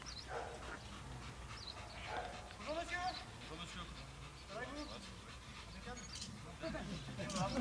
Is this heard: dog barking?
yes